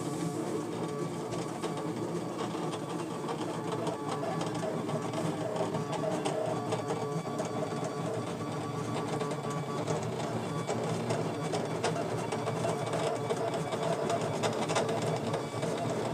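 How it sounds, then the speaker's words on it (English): A Brother ScanNCut machine runs its draw function over a parchment embossing mat, giving a steady, close mechanical whirring and rattling with fine clicking motor movements that continues unbroken throughout. "We press the draw function and tell the machine to start."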